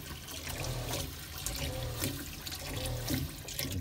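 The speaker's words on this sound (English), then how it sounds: "you turn on the water, the pump cycles quickly" Onboard a boat, the freshwater pump runs with a steady hum while the hot water tap flows, water rushing and splashing into a sink continuously and fairly close throughout.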